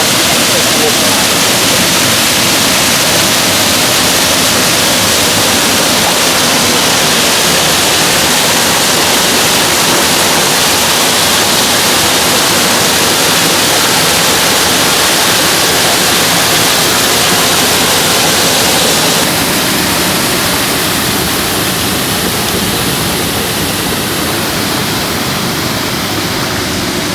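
Excess water roars out through old flood control gates, a loud, steady, broadband rush that continues without a break and eases slightly toward the end.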